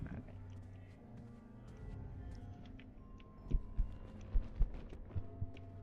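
A heartbeat sound effect throbs in a Japanese ghost-themed horror video game, starting as a low hum and then turning into deep, paired thumps that pulse steadily and grow prominent.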